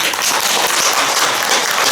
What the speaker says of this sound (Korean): 박수 한번 크게 보내주세요